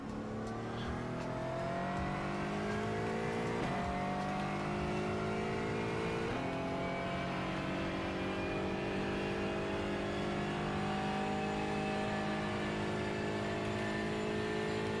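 Race cars drone steadily in the iRacing simulator, engines holding a loud, continuous whine with gear shifts audible as brief dips and rises, no talk over it.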